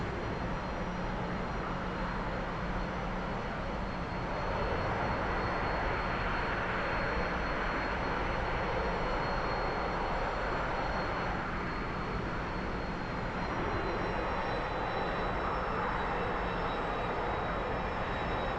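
A T-45 jet trainer climbing out after takeoff in the DCS flight simulator, a steady loud engine roar with a thin high whine running through it, unbroken for the whole stretch and with no voices.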